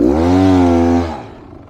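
A Beta Xtrainer trail motorcycle's engine lugging at low revs, a loud, deep, steady drone with strong harmonics that holds for about a second and then fades away, with no talking over it.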